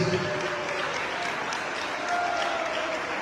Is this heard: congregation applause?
yes